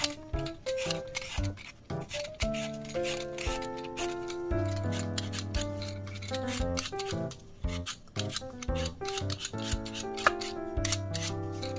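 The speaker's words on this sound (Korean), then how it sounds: "감자 껍질 벗겨 주세요" Potato skin scraped off with a peeler in a kitchen, rapid repeated rasping strokes at close range, fairly quiet and rhythmic throughout.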